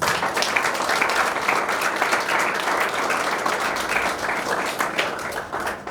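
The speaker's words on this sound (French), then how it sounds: "Vous devez les applaudir" Audience applause at an association election and handover ceremony, many people clapping in a dense, even patter that holds steady throughout and tapers slightly at the end.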